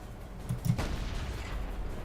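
Tank cannon firing in World of Tanks, a single muffled boom with a rolling low rumble that trails off into steady engine noise, at moderate distance.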